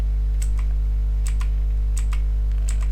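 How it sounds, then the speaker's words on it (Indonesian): Ctrl and Z keys pressed on a computer keyboard, several distinct close key clicks spaced about half a second apart over a steady low electrical hum. "Tekan Ctrl tahan, Z."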